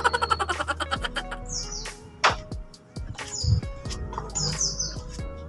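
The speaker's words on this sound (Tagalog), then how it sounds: "Kita niyo, welcome pa tayo ng ibon" Birds chirping nearby in a mangrove park in Masbate City, Philippines, in quick bright bursts, a few tweets and trills scattered over several seconds with some louder thumps and rustling.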